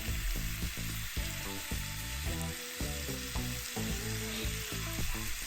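Meat, pepper and onion fry in a pan as filling for egg rolls, giving a loud, continuous close-up sizzle broken by brief stirring clatters.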